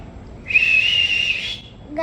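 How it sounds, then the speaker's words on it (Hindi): A whistle gives one sharp, shrill blast lasting under a second, fairly loud and near, over a low background murmur. "गाइस अब सीटी बज भी रही है?"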